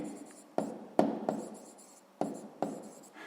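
A pen or pencil writes out a sixth-grade maths solution on paper, giving close, quiet scratchy strokes in about six uneven bursts with brief pauses between.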